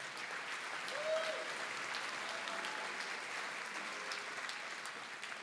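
An audience at an awards ceremony gives steady, sustained applause throughout, a dense wash of clapping from a crowd in a hall.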